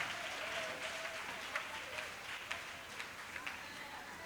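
Congregation applauding during a Sunday church service, a steady wash of many hands clapping at moderate distance with a few sharper claps, continuing throughout.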